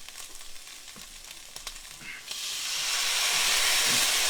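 Beef broth is poured into a hot pan with tomato sauce for unstuffed cabbage rolls, bursting into a loud, steady sizzle and steam hiss after a few soft clinks, close by.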